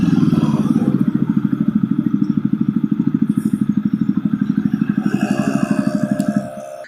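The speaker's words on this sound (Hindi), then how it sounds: "I like the exhaust note." Jawa Perak motorcycle exhaust with dual silencers putters in a steady, even thump close by, its rapid pulsing beat holding unbroken for several seconds before cutting off abruptly.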